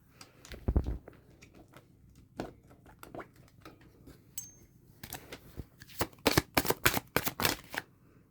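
Oracle cards shuffled by hand, scattered soft taps at first, then a dense flurry of quick papery riffles and snaps near the end, close and fairly quiet.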